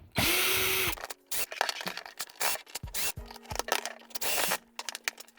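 A power screwdriver backing screws out of an X-MAXX RC controller, several short whirring bursts with clicks and plastic handling between them, close and fairly loud, with no talking.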